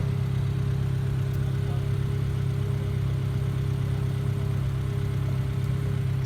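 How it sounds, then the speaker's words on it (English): Engine of a Toro 5800-G sprayer running at a steady idle, a continuous low, even hum with no change in pitch or level throughout. "we're going to start the sprayer"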